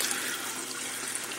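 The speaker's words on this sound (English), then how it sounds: "down there you can see the water just goes in there" Water pours steadily into a DIY PVC overflow and sump system, a continuous close, loud rushing and splashing with no breaks.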